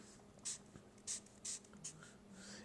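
Chalk or marker strokes on a board during a physics lecture on inductance: four short scratchy bursts in uneven rhythm, close and fairly quiet, with no speech.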